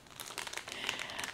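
Close, quiet crinkling of a plastic bag being handled and opened, a short stretch of dense rustling crackle with no voices.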